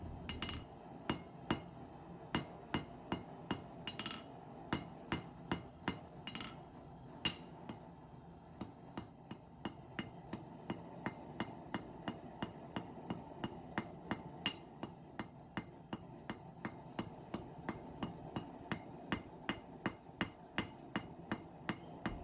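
A small hammer taps a bronze brooch being forged, sharp bright metallic strikes repeating in a steady quick rhythm throughout, close and clear with a faint background hum.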